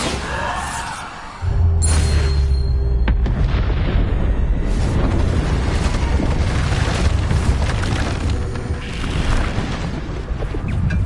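Repeated Bombarda spell explosions in the Hogwarts Legacy video game, loud booming blasts over a continuous rumbling battle din with no talk.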